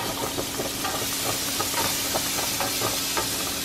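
Butter sizzles in a hot pan with noodles, a steady close hiss with faint crackles and stirring scrapes underneath, loud and continuous with no one talking.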